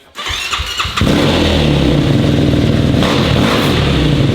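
A Yamaha YFZ450 quad bike with an aftermarket exhaust starts up after a cranking whir, then settles into a loud, close, steady idle with no voices.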